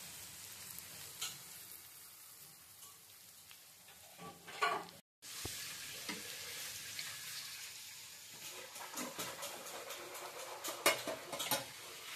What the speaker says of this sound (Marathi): आता ही पण कोळंबी तव्यावर टाकले. एकदम मस्त फ्राय होते